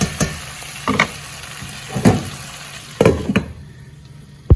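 A drumstick and tomato curry is stirred in a pan, with several separate scraping, sizzling bursts spaced about a second apart over a low, steady frying hiss.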